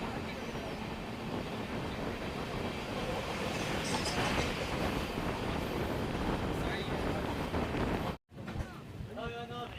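A train runs along the junction line toward Shivamogga, heard from on board as a continuous rumbling clatter with wind buffeting, broken by a brief dropout near the end before the running noise resumes.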